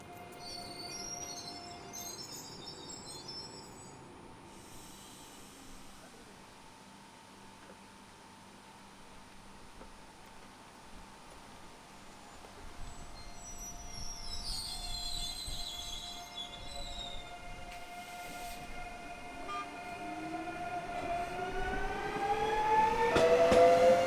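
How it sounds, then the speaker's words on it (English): An SNCF Z24500 electric multiple unit pulls into a station at sunset on a Dunkerque to Lille service, its rumble and wheel noise building steadily louder with a rising whine and squeal as it draws near. "Here we have Z24500 unit number 24695, arriving with the 2012 from Dunkerque to Lille."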